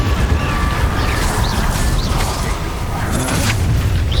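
A Bombarda spell blast in Hogwarts Legacy, a loud, dense explosive rumble with creaking and crashing debris across the whole moment, with no voices over it.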